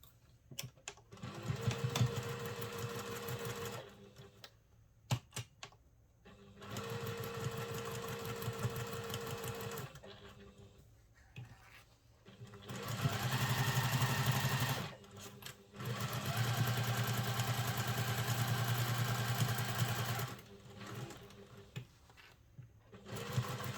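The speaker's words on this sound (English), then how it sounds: "And then we're just going to baste around the edges." Sewing machine basting around the edges of a mesh vinyl pocket for a travel satchel, loud rapid stitching bursts of several seconds each, stopping and restarting about five times with quiet gaps and small clicks between runs.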